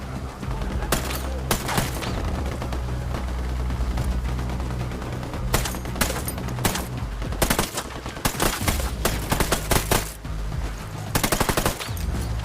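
Heavy gunfire in the video game Ghost Recon Wildlands, with sustained automatic bursts and loud repeated shots over a dense rumbling battle backdrop, close and intense throughout.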